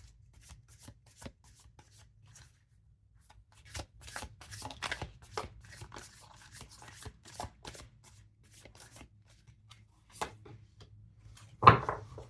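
Oracle cards from a Wild Soul Animal Oracle deck are shuffled and pulled, giving soft papery riffles and taps in scattered bursts, with one sharper snap of a card near the end, close and fairly quiet with no talking.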